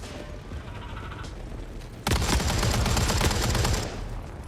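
Sustained gunfire in the video game FOAM, a dense rapid burst starting abruptly and continuing loud and close for about two seconds before easing, over a low game ambience.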